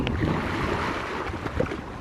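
Sea waves at Gdynia bay washing steadily as a broad, continuous surf rush, with wind buffeting the microphone and no talk.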